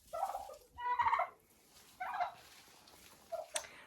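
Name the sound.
turkeys gobbling in hen house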